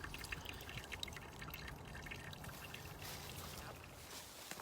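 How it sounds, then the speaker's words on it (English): Birch sap trickles steadily from a tree tap into a bucket outdoors, a continuous soft watery stream with faint drips, low and even throughout. "it was a steady stream pouring out of the steady stream of sap"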